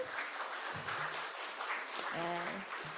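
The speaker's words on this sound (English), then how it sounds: "So let us all give a round of applause for Dr. Leyson." Applause rises from the audience at the close of an open forum on infectious bronchitis viruses, a dense steady wash of clapping with a voice talking over part of it.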